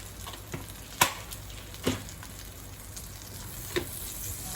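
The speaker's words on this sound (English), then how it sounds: "In the same pan, add a little bit of butter, some cardamom," Butter and cardamom sizzle softly in a pan, a steady faint frying hiss punctuated by a few sharp crackles and spatters.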